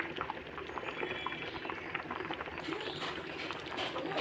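Taro and egg curry simmering in a pot, heard as a continuous close bubbling boil with dense popping and gurgling throughout and no voices.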